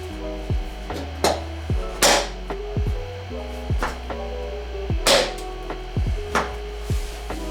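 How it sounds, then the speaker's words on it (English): The plastic front bumper of a 1997 Honda Prelude pops out of its snap-in clips under a gentle pull, a run of about a dozen sharp, loud, close-up snaps and cracks at uneven intervals. "this part of the bumper just snaps in. So I'm just gonna try pulling easy on it and see if it pops out"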